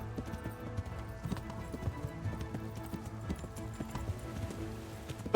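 Quick, rhythmic hoofbeats of a horse galloping in Kingdom Come: Deliverance pound steadily throughout, moderately close, over a low musical bed.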